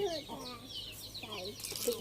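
Clucking chickens close by, a short run of soft calls mixed with a person talking over them.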